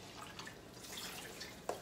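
Water runs faintly and drips while dishes are rinsed under a sink faucet, a soft hiss with a brief louder splash near the end and no talking.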